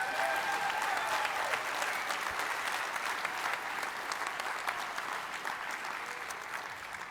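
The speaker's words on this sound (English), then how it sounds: "Let's also have a final round of applause for all of tonight's recipients." Guests at an engineering society awards banquet give a sustained round of applause for the evening's award recipients, a steady, moderately loud clapping that slowly tapers off.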